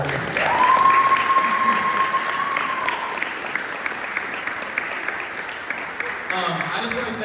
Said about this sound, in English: round of applause for Rachel